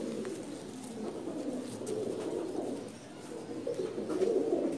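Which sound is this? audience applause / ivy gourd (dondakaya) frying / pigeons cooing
pigeons cooing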